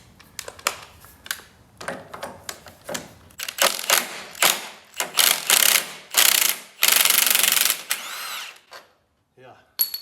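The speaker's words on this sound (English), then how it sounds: "This time I'm gonna try using a drill on these." Power drill working on bolts of a VW Type 4 engine during teardown, heard as a series of short whirring and ratcheting bursts building to longer loud runs, with brief speech in between.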